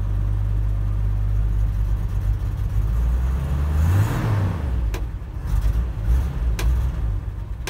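A pickup truck's engine idles steadily on a chilly morning while warming up, a low continuous rumble heard from inside the cab with a brief rise in revs midway.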